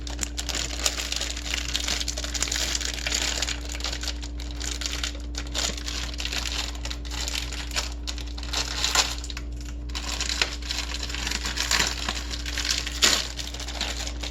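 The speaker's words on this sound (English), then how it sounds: "So I'm going to take the plastic off really quickly." Plastic wrap crinkling and tearing as it is peeled off individually wrapped peppermint candy spoons, close and busy, with irregular crackles over a steady low hum.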